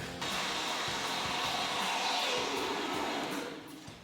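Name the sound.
spray foam filling a wall void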